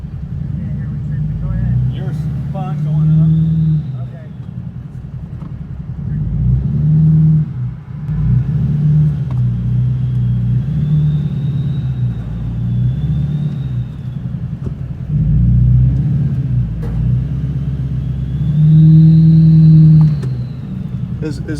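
A Duramax diesel truck climbs a ramp in four-wheel drive, its deep engine rumble surging in several throttle swells and easing between them, close and loud, with people talking intermittently over it.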